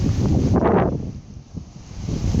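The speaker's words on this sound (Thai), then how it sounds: "ช่วงนี้ลมจะ กระโชก บางเล็กน้อยนะ เนื่องจากฝนตก" Wind gusts buffet the microphone, roaring in surges that rise and fall over a couple of seconds.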